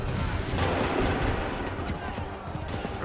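Massed musket volleys in the video game Assassin's Creed 3 roll on as a dense, continuous crackle of gunfire with deep booming weight, loud and unbroken for the whole stretch, with shouting voices mixed into the din.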